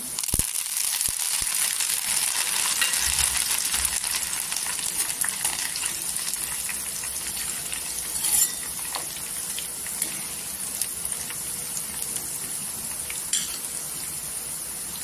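Fresh coriander, washed and dried, frying in hot oil in a pan with golden-browned garlic for Marathwada bhurka. It gives a steady, close crackling sizzle that runs unbroken throughout with no talk.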